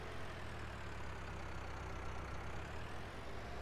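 Tractor engine idling steadily in Farming Simulator 19, a continuous low rumble at even loudness throughout, close and alone with no talking.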